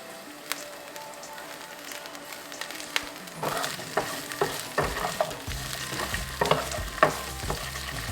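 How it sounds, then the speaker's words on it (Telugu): Green beans fry in a pan, starting with a quiet hiss that turns into a busier crackling sizzle with scraping and stirring clatter partway through. "బీన్స్ ఫ్రై అయ్యాయి. నేను బీన్స్ తీసేస్తున్నాను ప్యాన్లో నుంచి."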